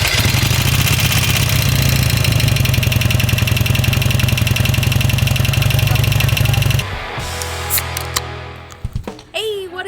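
A Harley-Davidson Sportster motorcycle idles loudly and steadily for most of the stretch with a deep, lumpy rumble, then the engine drops off and it turns quieter with a few scattered clanks and thuds.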